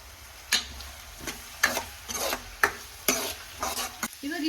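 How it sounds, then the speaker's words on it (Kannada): Curry leaves hit hot onions in a pan, bringing a soft sizzle, while a spoon stirs in several sharp scraping strokes about every half second, close and fairly quiet. "ಇವಾಗ ಇದ್ರೊಳಗಡೆ ನಾನು ಕರಿಬೇವು ಸೊಪ್ಪನ್ನ ಹಾಕೊಳ್ತೀನಿ"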